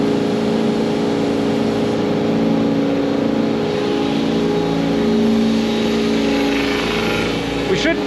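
A CNC machine spindle spins up to machine 6061 aluminum, a steady high whine and hum running unbroken for the whole stretch, close by, with a faint tone shift near the end.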